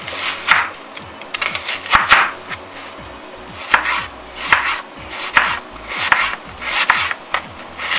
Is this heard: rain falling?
no